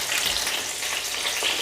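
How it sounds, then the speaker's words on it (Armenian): Homemade shawarma filling sizzling in a frying pan, a steady dense crackle of hot oil that stays close and even throughout, with no voices. "Արդեն այսպես տապակվել է, բայց մի քիչ էլ մյուս կողմը տապակվի"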